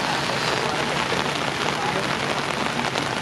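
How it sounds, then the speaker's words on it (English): Steady heavy rain hisses and patters on a surface at Epcot, a dense continuous wash of noise with no pauses. "It's raining pretty good."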